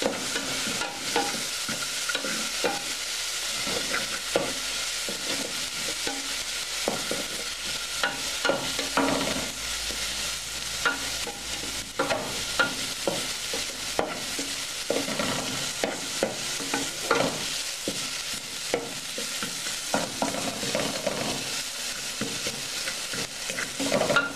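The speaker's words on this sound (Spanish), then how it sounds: "aderezar mi cebolla." Chopped onion sizzles and fries in a pan for locro de zapallo, with steady scraping stirs of a spoon throughout, close and loud, with no voices.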